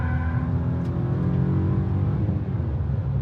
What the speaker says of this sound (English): I put it in fourth. Now down onto the straight.